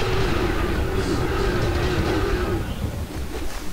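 A train rumbles in a shooting video game, a dense, steady roar of rolling rail noise with a faint rising whine, fairly loud and continuous before easing slightly at the end.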